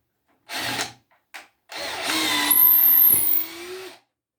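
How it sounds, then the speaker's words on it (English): A power drill bores holes for pegs in wooden rocking chair rockers, two short bursts followed by a longer steady whine that rises in pitch, heard close with no talk. "So I got that drilled."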